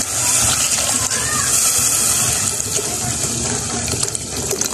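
Water pours steadily into a mix for sotanghon noodles, a continuous close splashing gush lasting several seconds, with a voice speaking over it.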